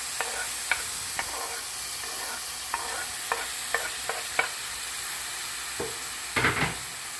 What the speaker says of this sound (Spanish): un sofrito rápido. Inmediatamente le voy a agregar el tomate y las aceitunas.